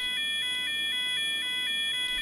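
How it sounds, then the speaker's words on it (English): A loud, continuous electronic fire alarm from a fire alarm panel in a GTA 5 mod, pulsing tones repeating steadily with nothing else heard. "As you can hear, the alarm has now sounded"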